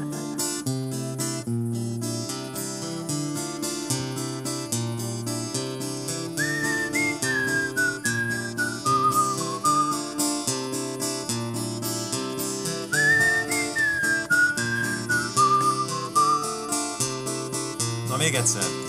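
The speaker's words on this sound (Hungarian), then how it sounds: "Szóval, aki fütyül, az fütyüljön." A group whistles a melody over steady accompaniment at an outdoor verse camp; the whistled line rises and falls in two clear phrases, loud and sustained throughout.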